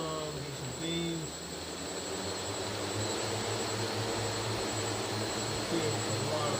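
The motors of a Xaircraft SuperX 650 V8 X8 multirotor drone power up into a steady, loud whirring drone with a faint high whine, holding constant throughout.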